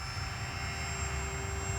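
A small Aeroscout RC airplane flies overhead with a steady, continuous engine drone that holds at even loudness with no talk.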